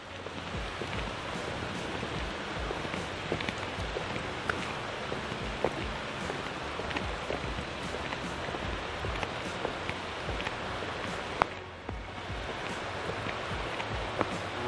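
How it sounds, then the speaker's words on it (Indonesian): Steady rain falls around a hillside burial ground at Bukit Siguntang, a dense even hiss with scattered drops and patters throughout, close and continuous. "Hujan."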